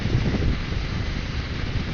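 Wind off the English Channel buffets a microphone on a 125cc motorbike riding along the motorway, a loud, steady low rumble with no talk.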